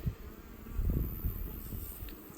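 Honey bees buzz around an open hive being inspected at Lake Patti Sue in late September, a low droning hum that swells and fades as individual bees pass close by.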